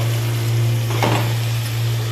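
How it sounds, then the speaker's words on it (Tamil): Potatoes and drumstick sautéing in hot oil with an onion-tomato gravy give a steady, close sizzle, with a brief swell of stirring about halfway through over a low constant hum. "உருளைக்கிழங்கு எண்ணெயிலே கொஞ்சம் வதங்குற அளவுக்கு நல்லா வதக்கிக்கலாம்."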